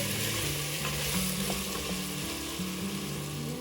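Ginger garlic paste frying in oil for vegetable pulao, an even, close sizzle with low stirring scrapes and a faint hum underneath, steady throughout, no talking.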